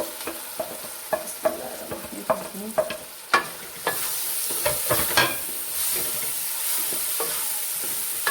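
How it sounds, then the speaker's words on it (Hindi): Chana dal added to sizzling masala in a pan, then stirred; a spoon clacks and scrapes in an irregular rhythm over a constant close frying hiss that grows smoother toward the end. "अब हम इसमें चने की दाल ऐड कर देंगे सारी।"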